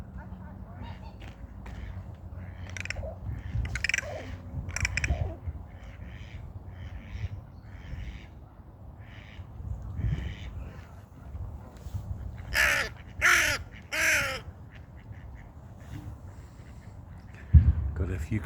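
A small black bird, tagged as crow-like, gives a series of strange, harsh, rasping calls, with a loud cluster of bursts near the end, under nearby talking.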